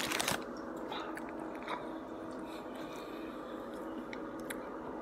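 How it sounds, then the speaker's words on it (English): Close-up mukbang chewing of a shrimp: a crisp bite at the start, then steady, moist mastication with soft crunches and squishes, no talking. "I'm gonna eat one shrimp for you guys."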